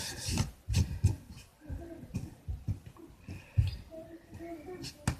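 Dried coffee is scraped off the page of an altered notebook in a run of short rubbing, rasping strokes, close and fairly loud, with speech over parts of it.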